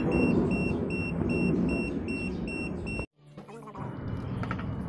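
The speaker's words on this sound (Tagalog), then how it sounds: "As you can hear, meron siyang beep sound." A B-Side S10 non-contact voltage detector traced along a broken wire emits a rapid, steady train of high beeps that stops abruptly partway through, followed by quieter handling noise.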